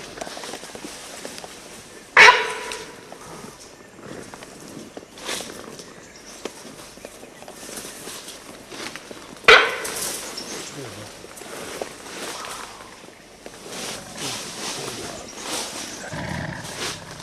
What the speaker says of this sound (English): Sounds of sambar deer calling with short nervous barks